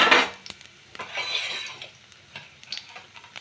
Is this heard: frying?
yes